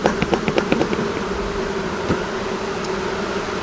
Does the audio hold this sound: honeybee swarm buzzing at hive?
yes